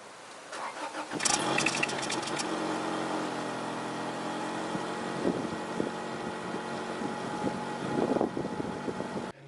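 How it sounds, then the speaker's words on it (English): An Acura Integra engine cold-starts on its factory exhaust, cranking and catching after a short silence, then settling into a steady, fairly quiet idle with a low exhaust burble and occasional revs. "So this is going to be a cold start of the factory exhaust on this car."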